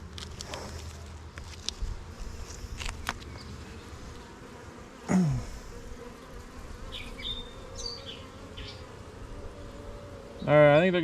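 Honeybees buzz around open hive boxes as honey supers are added, a steady insect hum with scattered bees passing close, while a person moves and speaks briefly nearby.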